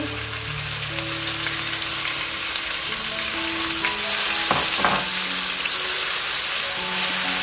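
Steady, loud sizzling of garlic-ginger paste frying with onions in a hot pan, with a few faint clinks of stirring partway through.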